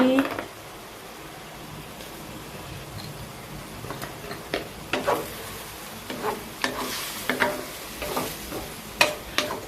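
Cabbage and carrot stir-fried in a pan, with a low sizzle beneath a run of rhythmic scraping and tossing strokes from a utensil, growing busier toward the end, and a voice heard briefly.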